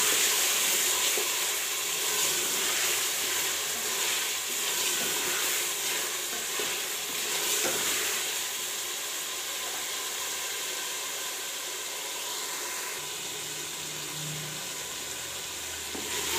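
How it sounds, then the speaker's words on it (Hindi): Minced meat keema fries in oil with spices in a pan, a continuous close sizzle with soft stirring scrapes that settles slightly quieter toward the end. "कीमे को अच्छी तरह से भून लिया है, ये देखिए ऑयल सेपरेट हो गया है"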